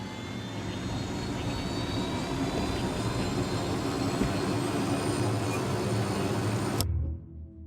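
Aircraft engine in the Ghost Recon Wildlands video game, a steady loud droning roar with a constant whine that holds evenly, then cuts off abruptly near the end into silence.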